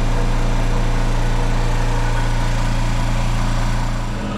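An air compressor runs steadily and loudly for HVAC work, a constant motor drone with a low hum throughout that eases slightly near the end, no voices over it.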